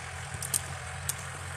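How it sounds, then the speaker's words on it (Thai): A farm tractor plows furrows in a roughly ten-rai cassava field in Sisaket, Thailand, a steady low engine rumble running throughout with a couple of brief sharp hissing bursts over it. "โดยใช้รถไถค่ะ"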